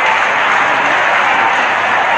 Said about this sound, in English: Solid tackle again, coming in from Lachlan Lewis, gaining the applause from his fans that have turned up tonight